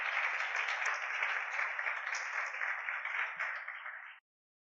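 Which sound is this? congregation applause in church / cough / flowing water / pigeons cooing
congregation applause in church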